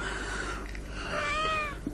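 A cat gives a clear, drawn-out meow near the end, loud and close, over a steady low hum of room noise in an old Spanish television drama.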